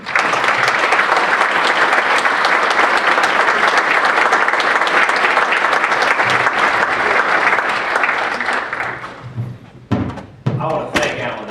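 A crowd at a St. Louis County Lincoln political gathering gives Bill Randles a standing ovation, with loud sustained applause that fades near the end into a few thumps and a voice.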